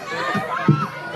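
A crowd at an event in Zamboanga keeps up a steady background din, with children's shouts rising out of it twice in quick succession, close and fairly loud.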